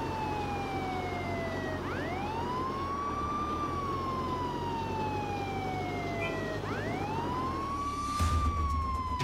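A police car siren from Contraband Police wails loudly and continuously, rising and falling in long sweeping cycles over a steady engine drone, with a burst of louder noise near the end.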